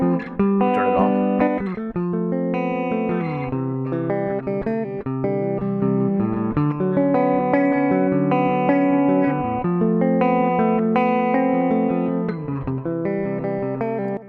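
Guitar notes ring out steadily through two echo effects, the repeats overlapping into a continuous, layered wash that makes the playing sound as if it fills a room, loud and without pause throughout.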